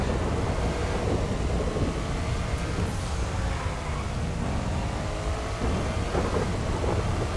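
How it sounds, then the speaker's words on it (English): Thunder rumbles and rain pours steadily in a video game storm, a dense, loud wash of noise with rolling low booms and no talking. "Oh wow, the thunder as well and lightning."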